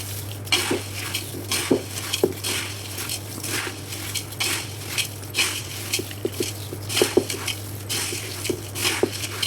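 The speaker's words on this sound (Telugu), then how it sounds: "చేతితో కలుపుతానండి" A snack mixture tossed by hand in a metal bowl, giving repeated rustling, crunchy scrapes and light clinks in an irregular rhythm, close and moderately loud over a steady low hum.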